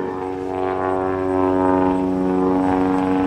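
A Skybolt 300 aerobatic biplane's engine drones steadily and loudly through an airshow climb and maneuver at Yarmouth, its propeller tone holding a strong even pitch that swells slightly mid-clip, with no talk.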